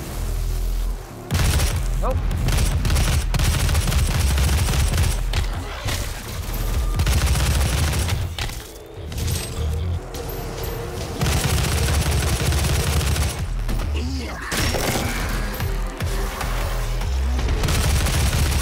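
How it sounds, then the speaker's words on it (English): Machine gun fire rattles in the video game DOOM (2016) in loud rapid bursts, mixed with booms and other combat noise, with short lulls between the volleys while a player talks over the action. "I could kill him from afar with the machine gun"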